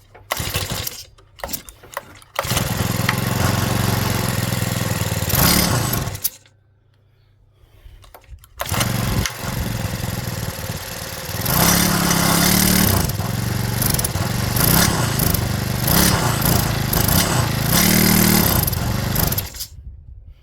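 A Stihl FS65 string trimmer's two-stroke engine sputters through a few short pulls, then catches and runs loud and close with a buzzing drone, dies briefly, restarts and revs up and down unevenly.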